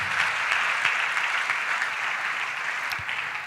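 A church congregation applauding during a sermon, with dense steady clapping from many hands that is fairly close and fills the whole short moment, and no speech over it.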